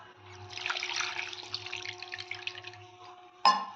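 A glass of water is poured into a pot of crabs set to boil with salt and turmeric, a steady, fairly quiet splashing stream lasting a few seconds, ending with a brief clink.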